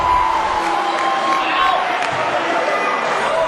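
A basketball crowd in a school gym murmurs and calls out in disagreement after a traveling call, a continuous roar of voices under an announcer speaking.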